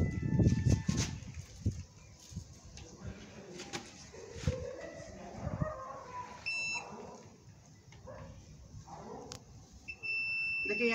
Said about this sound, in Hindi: देखिए यहाँ से ये इसका बीप कर रहा मतलब ये सही है।